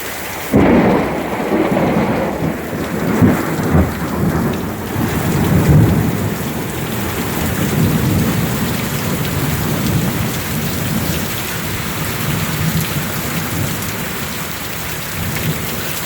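A summer hailstorm in Central Florida pounds down with dense, loud rain and hail on surfaces while deep thunder rolls and rumbles through the first half, the downpour continuing steadily throughout.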